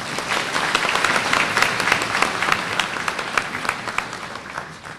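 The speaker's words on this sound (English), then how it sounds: "Please give a warm round of applause to Megan Babb." Warm applause from a luncheon audience for a pageant contestant at a festival queen's fashion show, brisk dense clapping throughout that tapers slightly toward the end.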